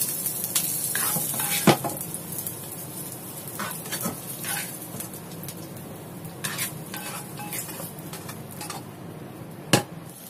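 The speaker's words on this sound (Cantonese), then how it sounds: "我見到佢燒到個煲仔咧啫啫聲" Claypot chicken with scallion pieces and shallots sizzling and crackling steadily over high heat, a continuous frying hiss with occasional louder pops and scraping clinks of a utensil against the pot.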